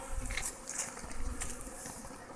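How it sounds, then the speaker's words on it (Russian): Honey bees buzz at a hive wintered with a well-insulated nest, a steady low hum with brighter bursts of flight noise, fairly close and continuous throughout. "По методу по Блинову проход для пчел оставляют снизу рамок"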